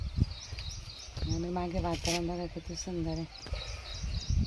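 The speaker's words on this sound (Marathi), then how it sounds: "मस्त पक्ष्यांचा आवाज येतोय" Birds sing with repeated chirping phrases in short bursts outdoors, moderately close, while a person talks over them.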